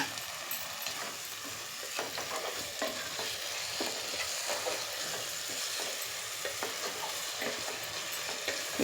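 Grated raw mango is stir-fried in a pan for mango coriander rice, giving a steady close sizzle with scraping and stirring scrapes throughout.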